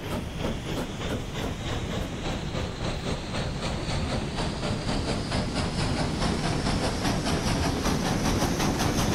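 A heavily loaded train in a video game pulls away slowly, with steady rhythmic clicking over a dense, loud rumble and hiss that holds even throughout.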